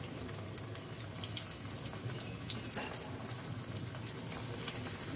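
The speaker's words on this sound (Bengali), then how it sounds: "এইভাবে আমি সব কটাকে ফ্রাই করে নিয়ে আসছি" Orange oats malpua batter frying in hot oil, a steady soft sizzle and bubbling that holds constant throughout, fairly faint.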